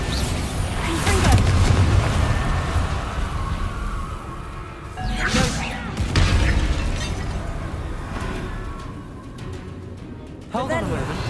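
Confringo spell blasts and explosions in Hogwarts Legacy boom in deep bursts amid combat noise, with shouted voices over the fighting.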